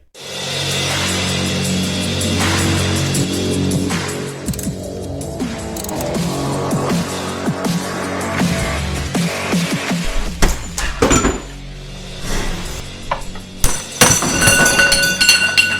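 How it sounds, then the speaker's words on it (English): A Harbor Freight Icon 19mm ratcheting wrench is strained until it snaps, heard as loud metallic clanks, grinding creaks and ringing clinks at close range, with a burst of sharp metal impacts toward the end and no voices. "we were able to snap off the 19mm Icon"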